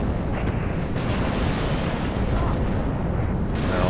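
A MiG-29 air strike slams into a target in the WARNO war game, a dense, sustained roar of blast and rumble filling the whole stretch without letup.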